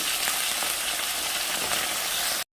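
Eggplant frying in oil in a wok gives a steady, loud, dense sizzle that runs unbroken and then cuts off abruptly.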